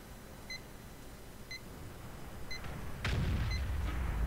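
A tank gun fires once in World of Tanks, a sharp loud boom near the end following a series of evenly spaced electronic beeps, one per second.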